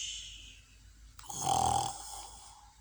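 A storyteller's voice imitates Bear snoring in a children's story, giving one long, rumbling, nasal snore that swells in the middle and fades, close and fairly quiet.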